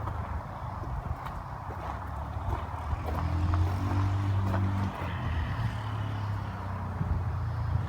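A Yamaha Kodiak 400 ATV with a freshly rebuilt carburetor running through woods, its engine a low, fairly distant drone that swells slightly midway, with faint rustling and no talk.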